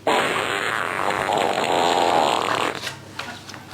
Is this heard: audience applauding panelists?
no